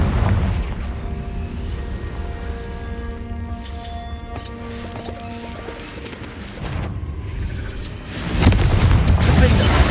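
A Confringo blasting spell in the Hogwarts Legacy game erupts as a loud, rumbling explosion with a swelling boom and crackling debris, layered over sustained tonal game music, then bursts again near the end.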